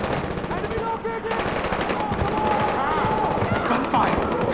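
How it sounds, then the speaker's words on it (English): Rapid automatic gunfire in the first-person shooter Far Cry 4, loud continuous bursts filling the scene with shouting voices over the shooting. "Gunfire! Gunfire!"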